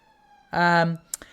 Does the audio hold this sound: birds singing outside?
no